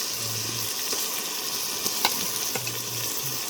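Green chilli, ginger and garlic frying in hot oil for biryani, a continuous close sizzle with a few brief scrapes of stirring, no talking.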